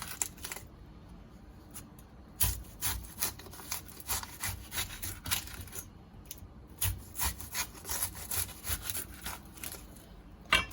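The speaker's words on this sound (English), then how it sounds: "Now I want to get some thin slices from the onion." A knife slices an onion with its skin on into very thin pieces on a board for burgers, a quick run of crisp rhythmic cuts in bursts, close and fairly quiet, with no talking.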